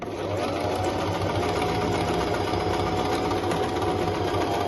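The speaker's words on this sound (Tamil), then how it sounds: "எப்பயுமே ஒரு ஸ்பெஷல் ஸ்டிச் அடிக்கிறப்போ ரொம்ப ஸ்பீடாக எடுத்தோன்னு அடிச்சாங்க, கொஞ்சம் மெதுவாக அடிச்சிங்கனாக்கா அந்த ஒரு ஃபினிஷிங் நல்லா அழகாக கிடைக்கும்" A Singer Promise sewing machine runs steadily at slow speed while stitching a special decorative stitch, its motor hum and rapid needle clatter continuing evenly and close throughout.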